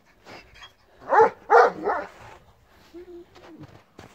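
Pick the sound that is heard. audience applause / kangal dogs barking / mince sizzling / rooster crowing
kangal dogs barking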